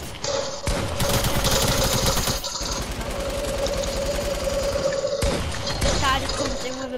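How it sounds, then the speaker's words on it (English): Light machine gun fires in sustained, dense bursts in a video game, loud and close, with short breaks between long rattling volleys. "Big LMG."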